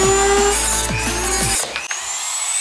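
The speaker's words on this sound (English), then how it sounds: "Is the Dremel broken? No, it just keeps breaking the blades." Dremel rotary tool cutting into a Tesla Cyberwhistle, a loud steady high-pitched whine with grinding rasp that cuts off abruptly about two-thirds through, leaving a brief rattle and a quieter tail.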